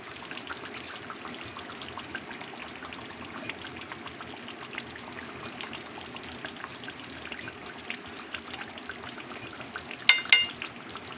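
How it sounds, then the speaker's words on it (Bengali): A spoonful of ghee sizzles in a pan of katla fish curry, a steady dense frying hiss that holds throughout, with a brief clink near the end. "এক চামচ ঘি দিয়ে দিচ্ছি।"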